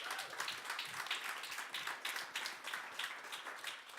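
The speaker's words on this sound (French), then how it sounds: "Je pense qu'on peut l'applaudir" Audience applause at a French public unveiling event, a dense, even patter of many hands clapping, fairly quiet and steady throughout with no voices over it.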